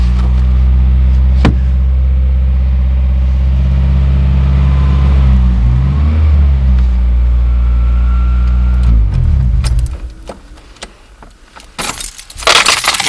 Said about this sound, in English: Nice cold start for you.